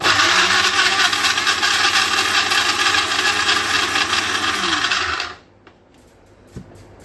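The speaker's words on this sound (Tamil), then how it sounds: "So we'll just blend coconut and cumin together." Mixer grinder blending coconut and cumin, a loud steady whirring motor running for about five seconds before it cuts off abruptly, leaving near silence with a faint clunk afterward.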